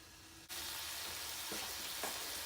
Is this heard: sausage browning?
yes